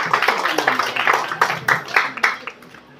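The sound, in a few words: audience applause for honoured guest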